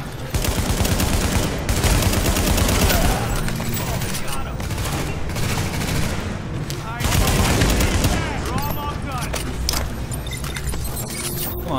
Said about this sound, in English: Shoot your rifle.